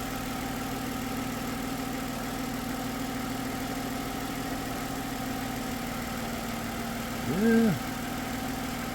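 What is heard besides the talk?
2009 Toyota RAV4 engine idling with ignition coil misfire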